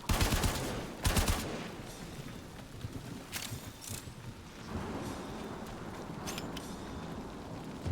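Gunfire from the shooter game Warframe, with a few sharp bursts early on followed by a continuous rumbling din of shots and effects at moderate loudness, with no talk.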